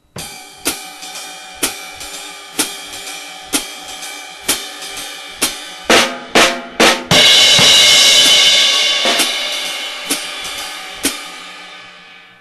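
A drum set plays rhythm pattern number 3 with embellishment: steady, evenly spaced strokes, then a quick cluster of hits leading into a loud crash cymbal that rings and slowly fades, all with no talk.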